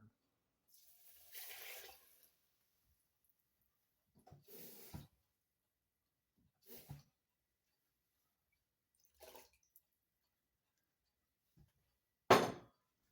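Water splashes in short separate bursts into a pan of pork chops and rice, five or six brief pours with quiet gaps between them, the last one sharp and loud.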